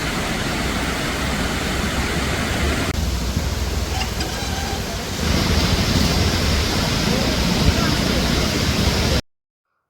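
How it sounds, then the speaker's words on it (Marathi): Water pouring over Barvi dam makes a loud, steady roar that continues without a break for about nine seconds, mixed with wind buffeting the microphone, then cuts off abruptly. "बघू शकता कसा मस्त ते पाणी पडतं बारू डॅमचा"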